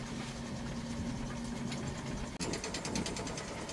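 A powered tool cuts aluminum solar panel mounting tubing for a C&C 39 sailboat with a steady buzzing hum, and the tone shifts abruptly partway through.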